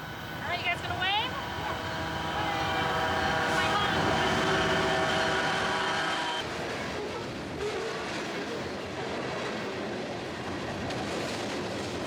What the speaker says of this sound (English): The best part, of course, was watching a train go by.